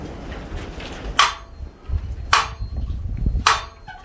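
Hammer struck on a broken anvil that has no ring, three dull, short clanks spaced about a second apart, close by, with no sustained tone after each hit over a quiet room background.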